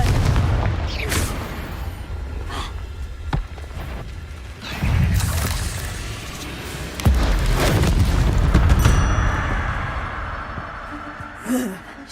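Booming blasts of the Confringo spell in the Hogwarts Legacy video game, several heavy explosions and pops in quick succession over a rumbling game soundscape.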